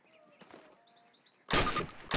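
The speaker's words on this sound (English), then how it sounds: "Approach the fence and fire 6 rounds at your target" Rifle shots are fired at a range target in Call of Duty (2003), beginning with a quiet stretch of faint birdsong before two loud, sharp, close reports ring out about half a second apart.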